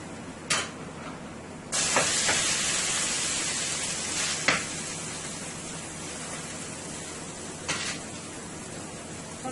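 A pot of linguine cooks on the stove with a steady broad hiss of steam and boiling, broken by a few sharp clicks and clanks. No one speaks.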